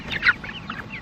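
A chicken gives a few quick, soft clucks outdoors, close by and fairly faint, with no talk over it.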